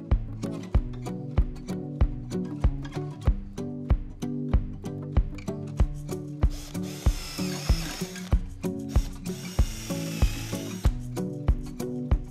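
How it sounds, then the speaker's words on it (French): Power drill boring a series of holes in a wooden board to make a screwdriver rack, with repeated sharp bursts in an even rhythm and a longer whining spell near the end, close and clear. "Disposez-les à nouveau et percez des trous selon les mesures indiquées."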